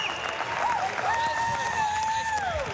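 A home crowd at a Big Ten men's gymnastics championship applauds and cheers in an arena. The clapping wash is steady and fairly loud throughout, while a commentator's voice runs over it.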